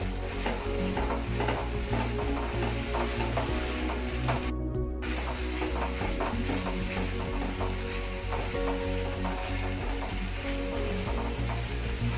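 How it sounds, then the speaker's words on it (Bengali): Food stirred and fried in a pan for an old-fashioned home-style dish, a steady close sizzle with scraping stir sounds throughout and a brief silent gap midway, no voices heard. "কিন্তু বারবার নাড়তে হবে, নাহলে জল ছেড়ে যাবে।"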